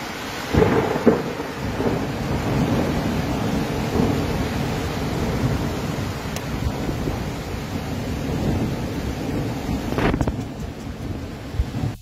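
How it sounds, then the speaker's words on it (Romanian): A thunderstorm with hail in Romania roars as a dense, steady wash of rain and wind, with low thunder rumbles swelling throughout and a sharper crack near the end, no voices. "Da, cu grindină."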